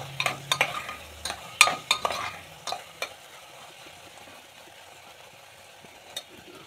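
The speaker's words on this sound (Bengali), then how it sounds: "সেটাকেও ভালো করে নাড়িয়ে দিতে হবে।" An oats and lentil mix seasoned with salt, sugar and pepper is stirred in a frying pot, giving a series of sharp spoon scrapes and knocks over a soft steady sizzle that fades toward the end.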